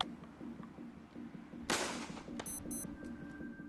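A single sharp burst of rifle fire from a soldiers' Springfield volley cracks out loudly and close, its noise decaying over a fraction of a second before quieter clicks follow.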